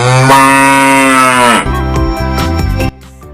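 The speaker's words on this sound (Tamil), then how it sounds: "தோட்டத்தில் துள்ளி குதித்து கொண்டிருந்த கன்றை கண்டு பசு மா என" A cow lows loudly and close, one long drawn-out moo followed by a few shorter broken calls, with no one speaking.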